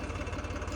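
An old Sonalika tractor from about 2005-6 idles with a steady, dense, low diesel rumble and a faint rhythmic knock, close and unbroken through the brief moment.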